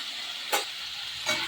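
Sem beans (flat beans) seasoned with turmeric and salt sizzle steadily in a pan, with two short scraping stirs of a spoon rising above the constant frying hiss, and no voices.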